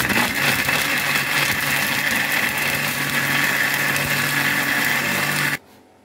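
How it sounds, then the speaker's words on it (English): A blender whirs loudly and steadily for several seconds blending ginger, garlic and water, then cuts off abruptly, leaving quiet. "And I'll blend it very smoothly."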